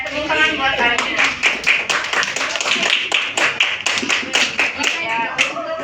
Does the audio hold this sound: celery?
no